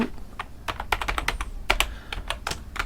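Someone types a value on a computer keyboard while running a C program, a rapid uneven run of close, crisp key clicks with brief pauses, with no talk.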